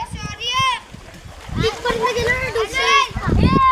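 Children swimming in a small river in Konkan during Ganesh immersion splash water in short, irregular bursts close by, while children's voices and other talk carry on over the splashing.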